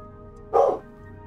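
A single dog bark lasting about a quarter second, close to the microphone and indoors, rises briefly over steady low background noise.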